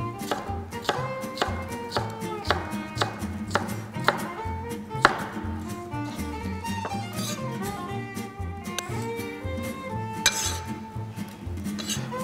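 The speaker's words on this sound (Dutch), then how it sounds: "Dan kunnen we onze blokjes snijden." A knife dices cucumber on a cutting board in rapid chops, steady rhythmic taps close up over a bed of music, with occasional louder strikes.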